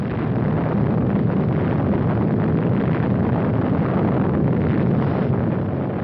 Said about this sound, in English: The blast of an atom bomb is its most important destructive agent